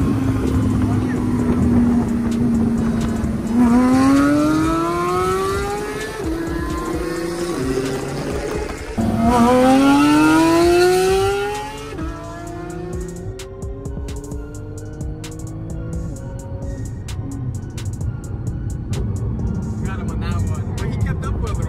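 Two Porsches, a GT3 RS and a GT2 RS, race side by side with loud engines accelerating hard. Rising gear-change sweeps repeat several times, and there is a drop after about twelve seconds. People talk over the engines.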